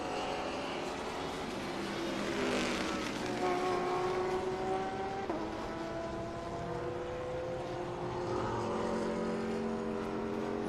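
Trans Am series race cars at Barber Motorsports Park, several engines droning and shifting pitch at a steady distance, one passing louder near the middle, with a continuous crowd of motor noise and no talk.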